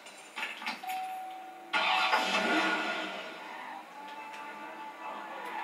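Car engine in the Watch Dogs video game, a brief low idle followed by a louder burst of engine noise that fades back down over a few seconds, with no talking.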